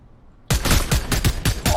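Gunfire in the Fortnite video game erupts suddenly after a brief quiet, a rapid burst of six loud, close shots in quick rhythm.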